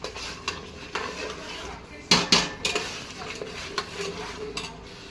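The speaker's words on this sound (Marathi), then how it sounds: "पेस्ट पण घालून घेतली आणि पेस्ट छान परतवून घेऊ" Onion, tomato, ginger, garlic, green chilli and coriander paste sautéed in a pan for chole, with scraping spoon strokes, clanks against the metal and a faint sizzle underneath, close and uneven.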